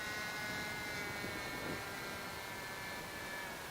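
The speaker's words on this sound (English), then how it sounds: "It may just be that high-pitched prop causing that sound." Steady high-pitched whine of the electric propeller on an RC AeroSport 103 ultralight model plane, a continuous loud drone holding evenly throughout with little variation.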